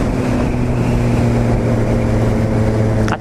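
A Suzuki GSR750 motorcycle is ridden on the road, its engine a steady, loud droning hum mixed with heavy wind rush that continues without change until it cuts off at the end.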